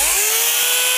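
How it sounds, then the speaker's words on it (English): Kobalt 80 volt max KCS-180B 18-inch cordless electric chainsaw running, a loud, steady high-pitched whine with a rising motor tone, close up and alone. "The 80 volt max KCS-180B cordless chainsaw. Sounds pretty good."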